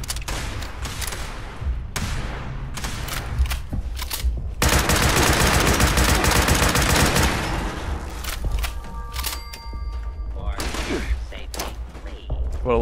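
Explosions and rapid gunfire from the online game Fallout 76 rattle together in a dense, loud burst, with the heaviest blast roughly midway and someone talking over the battle.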